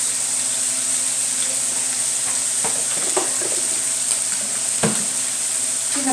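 Bay leaves dropped into a pan of menudo, steady close sizzling with a few stirring clatters and no talk.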